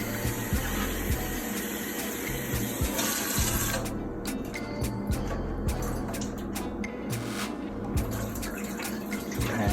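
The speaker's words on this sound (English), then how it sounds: "And drain that water." Water pours and drains from a pot into a kitchen sink while cooking a Thanksgiving side dish, a steady broadband rush with a few clanks, close and loud, with no talking.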